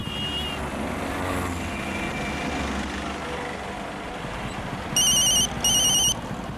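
A telephone rings in two short electronic bursts near the end, loud and close over a steady rumble of traffic, with no talking.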